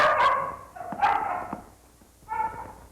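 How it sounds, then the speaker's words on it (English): A dog barks a few times, sharp bursts with a pause before a final bark, heard alone at moderate distance in an older drama film. "I wonder what dog that is over there."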